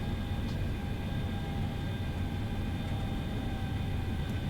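A small plane's engine drones steadily from inside the cabin as the throttle comes back for the descent into San Jose, a dense, even roar with no pauses.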